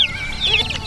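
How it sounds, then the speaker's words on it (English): Small backyard chickens and chicks cluck and chirp close by in a homestead yard, a run of short, busy fowl calls over about a second. "we have some naughty birds, naughty little chicks"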